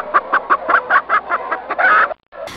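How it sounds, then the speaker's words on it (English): A hen clucks in a quick rhythmic series of about eight close, clear clucks, ending in a longer, louder squawk, then a short pause. "No hen said."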